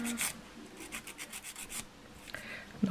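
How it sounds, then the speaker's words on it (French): A nail file rasping across a fingernail in a series of short, close strokes, soft and steady, with no talking. "je viens limer."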